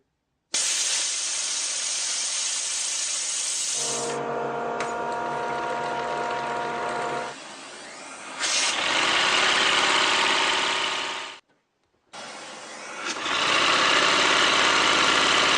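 A handmade wooden air engine running on compressed air, with a steady hiss of escaping air and fast mechanical chugging, pausing briefly twice and changing pitch as it is driven by air pumped from a second wooden air engine.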